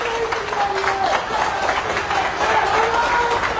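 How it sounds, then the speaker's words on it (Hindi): A crowd at an airport applauds and cheers Olympic silver medallist weightlifter Mirabai Chanu on her return, a steady mass of clapping and voices running throughout, with someone talking over it. "तालियों की गड़गड़ाहट, मीराबाई चानू जहां से भी गुजर रही हैं लोग उनका स्वागत कर रहे हैं, क्लैपिंग ही क्लैपिंग"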